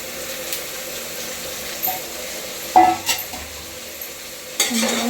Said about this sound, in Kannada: ಇವಾಗ ತರಕಾರಿ ಹಚ್ಚಿಟ್ಕೊಂಡಿರೋದನ್ನ ಒಗ್ಗರಣೆ ಹಾಕ್ಬೇಕಾಗುತ್ತೆ.